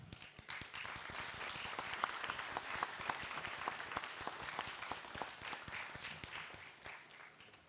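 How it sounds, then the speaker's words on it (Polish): Audience applause for award winners at a ceremony, sustained dense clapping from a sizable room that swells and then tapers off toward the end. "Jeszcze raz poproszę o ogromkie brawa dla wszystkich laureatów."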